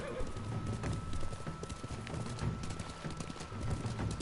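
Horse hooves clatter in a steady galloping rhythm with a whinny mixed in, from the video game Ghost of Tsushima, running continuously at a moderate level beneath game ambience.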